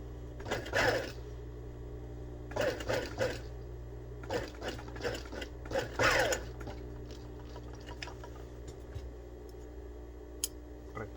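Sewing machine running in several short bursts while sewing a straight 1/4-inch seam on top of trousers, each run a quick whirring burst separated by brief pauses, close and fairly quiet, with no talking.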